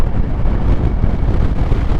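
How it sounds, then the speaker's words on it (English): Strong gusts of wind buffet a rider on a Kymco AK 550 motorcycle over a rough road between buildings, a loud, close, continuous rumbling roar with no speech. "you get these huge gusts of wind"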